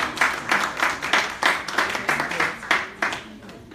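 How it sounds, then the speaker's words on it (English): A small audience claps in uneven bursts of applause, loud and close, with individual hand claps standing out in a rhythmic patter that fades toward the end. "So please give him a round of applause."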